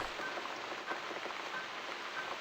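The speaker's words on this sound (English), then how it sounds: "Looks like we've got the rain back." Steady rain falls in the video game The Cat Lady, a dense even hiss of drops on surfaces with no pauses, filling the scene at moderate level.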